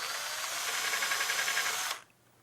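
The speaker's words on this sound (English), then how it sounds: "line it up, and drill away." A power drill bores into plywood for a bookcase side, a steady close whirring buzz lasting about two seconds before cutting off abruptly into quiet.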